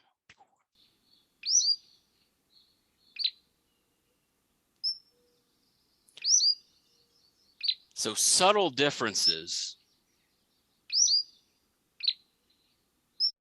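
Recorded song of a Cordilleran flycatcher: short, high, thin chirps spaced through a quiet background, interrupted by a brief burst of speech midway.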